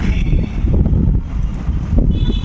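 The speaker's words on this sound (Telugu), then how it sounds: "గాలి భలే ఉంది చక్కగా అది సూపర్ గా ఉంది" Wind blows across an outdoor spot where food is being cooked over a wood fire, producing a loud, constant low rumble and buffeting against the microphone with no clear gaps.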